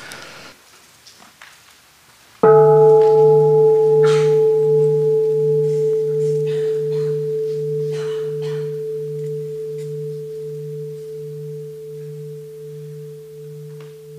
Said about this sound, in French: Je vais demander à ma sœur de nous offrir un son de cloche.